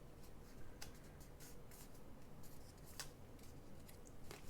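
Faint, quick scissor snips trim off the sides of a piece, a series of light cuts close by against a hushed background.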